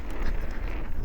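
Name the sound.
wind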